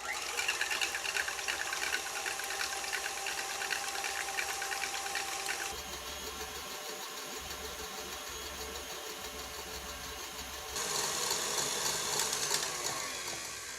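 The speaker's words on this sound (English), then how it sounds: "I'm gonna put this on like medium high speed and whip it until it's like all the way up to like here in the bowl." Electric hand mixer whipping eggs for a keto, gluten-free cake batter on medium-high speed, a steady close whirring motor hum that shifts pitch midway and rises again near the end, running alone without talk.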